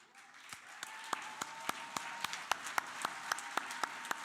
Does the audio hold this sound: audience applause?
yes